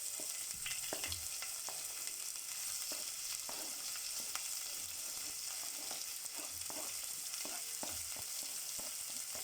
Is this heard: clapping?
no